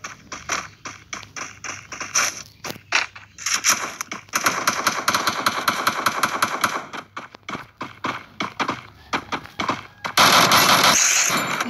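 Gunfire in the mobile shooter Free Fire, played in Clash Squad mode: bursts of rapid automatic shots in irregular volleys, loud and close, with a sustained dense barrage near the end.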